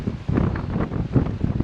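Strong wind buffets the microphone on the Okinawa coast while fishing, a steady low roar with gusty surges and possible surf beneath, continuous and close throughout.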